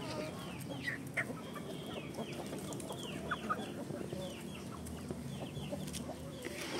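Native chickens cluck and chatter nearby, with scattered short calls over a steady outdoor background, continuous throughout with no talking.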